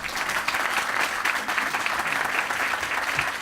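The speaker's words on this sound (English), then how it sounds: "Give him a big round of applause." Crowd applause for Governor McMaster at a public event, steady dense clapping from many hands, close and sustained throughout.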